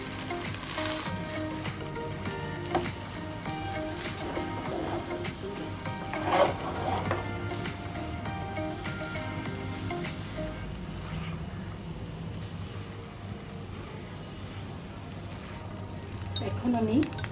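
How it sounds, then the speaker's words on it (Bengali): Rice tipped into a pan of cooked vegetables for homemade fried rice, frying with a low steady sizzle and scraping stir sounds, a few louder clatters of the spatula, close and continuous with music playing underneath. "সবজিটা হয়ে যাওয়ার পরে আমি রাইসটা ঢেলে দিচ্ছি, মিশিয়ে নেব।"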